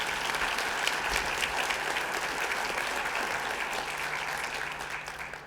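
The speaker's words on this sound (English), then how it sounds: "Please join me in a round of applause for their organization" Applause fills a school event hall as an audience claps steadily together, the sound easing off slightly toward the end with no one speaking.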